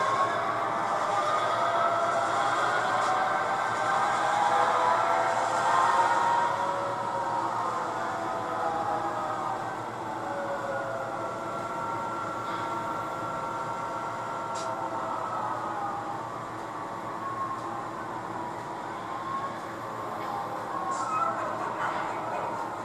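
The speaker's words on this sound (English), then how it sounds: "So let's back up to this train and get coupled up." A train backing up to couple onto railroad cars during local switching, a continuous rumbling and squealing drone of moving rail cars with faint wavering tones and a couple of brief sharp clicks.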